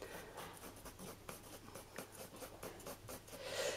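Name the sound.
colored pencil shading on paper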